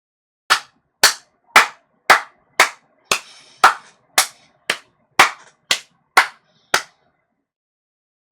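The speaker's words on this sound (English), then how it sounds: "No, it should be slow clap," A slow clap, about a dozen sharp, separate handclaps spaced evenly at roughly half-second intervals, loud and close, with no voices.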